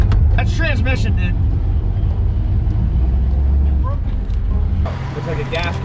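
A car engine idles roughly with a low, uneven chugging rumble, while people talk over it nearby.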